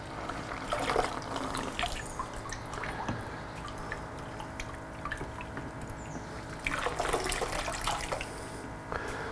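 Water and old coolant trickling and dripping out of a Yamaha R6 motorcycle's radiator during a flush, a thin steady splashing stream with occasional louder gushes, close by and with no talk.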